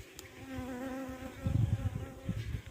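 Close honeybee buzzing around a queen bee hums steadily, with a soft rustle and a few fluttering bursts partway through.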